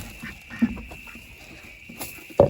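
A couple of short duck quacks stand out over a quiet evening garden background, one early and a louder one near the end.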